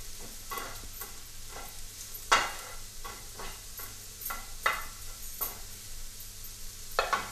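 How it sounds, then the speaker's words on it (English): Mushrooms being stirred through butter in a pan, giving a soft low sizzle with repeated scraping strokes and a few sharper utensil knocks against the pan. "Stir those in as well, making sure they all get coated in butter."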